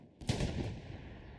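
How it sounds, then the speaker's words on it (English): Artillery fire in Hell Let Loose, a single sharp, loud blast followed by a lingering rumbling tail. "Just a little one-man artillery right here on the back."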